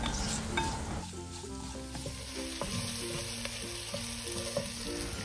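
Chopped tomato sautés over a low flame in a pan, giving a continuous gentle sizzle with soft stirring scrapes and spatula taps, close and alone.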